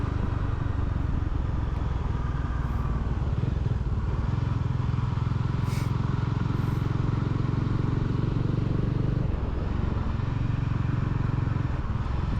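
A motorcycle rides along a deserted forest road near Nilakkal on the way to Sabarimala and Pamba, its engine a steady close drone with road rumble and wind throughout, no talking.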